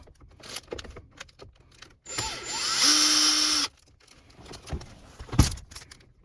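A power screwdriver whirs for about a second and a half, backing out a Phillips screw from a 7th-generation Nissan Maxima speedometer lens area. Close clicks and handling clatter surround it.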